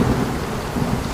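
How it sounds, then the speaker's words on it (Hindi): A thunderstorm rumbles with a low, continuous roll of thunder under a steady hiss of heavy rain, loud and close throughout the short stretch. "मौसम भी बदल रहा है, लगता है बारिश होने वाली है।"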